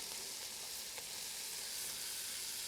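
Garlic frying in a pan for jambalaya, a soft, even hiss of sizzling oil held steady and close with one faint tap of a utensil.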